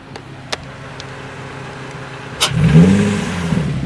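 Nissan 350Z with an Injen cold-air intake idling close by, a few clicks over the rumble, then the throttle is blipped once for a quick rising rev and intake suck.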